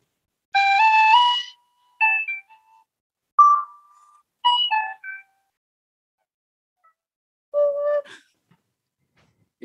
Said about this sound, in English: I usually just try to grab my tin whistle.